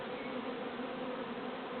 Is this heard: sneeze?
no